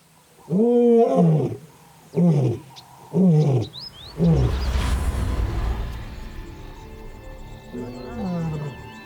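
Lions roar in the wild: three deep, loud, rhythmic groaning roars close by, followed by a long rumbling roar with heavy low grunting and a fainter roar trailing off, with no talk over them.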